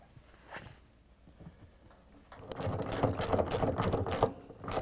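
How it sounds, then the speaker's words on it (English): A 13 mm socket wrench ratchets as it tightens a bolt on a Samsung washer spider arm, a quiet stretch giving way to a run of rapid, close clicking bursts of metal pawl against gear. "Tighten the bolt with a 13 millimeters socket wrench."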